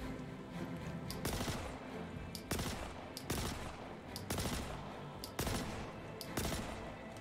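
A Kastak Arms Custodian SMG in Star Citizen fires at a rock in several fast bursts, each sharp and rattling over quiet game ambience, with short pauses between bursts.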